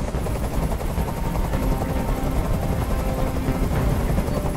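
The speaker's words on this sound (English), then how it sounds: "Tell that helicopter to get out of here!" A hovering helicopter in the video game Detroit: Become Human gives a steady, loud rotor thrum that fills the whole stretch without a break, dense and continuous with no voices.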